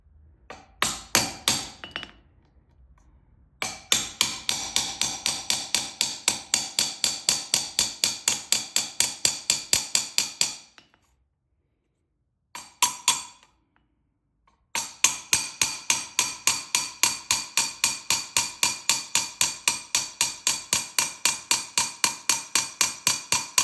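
A hammer strikes a hot cut chisel to cut a channel for brass wire inlay in Viking-style engraving, sharp metallic taps in rapid, even bursts with short pauses between runs, close and clear with no talking.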